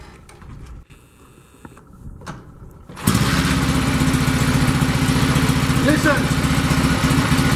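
A Zündapp KS750 two-cylinder boxer motorcycle engine, 26 horsepower, starts and settles into a loud, steady close-range idle with a dense rhythmic throb, a brief spoken word coming before the engine kicks in.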